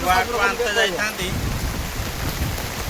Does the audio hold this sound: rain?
yes